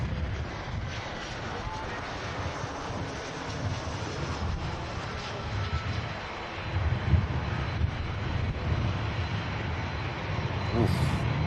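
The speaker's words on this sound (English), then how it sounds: "Big flare on the EasyJet there." An EasyJet airliner from Copenhagen lands at Manchester Airport with a low, steady jet rumble, moderately distant and fairly quiet, touched by wind noise and with people talking over it.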